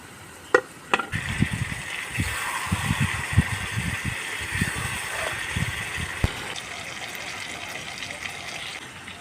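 Fried small fish tipped into a pan of koda (ridge-gourd-like vegetable) curry, a couple of sharp knocks, then an even sizzle with bursts of wet stirring and scraping close by, no talking.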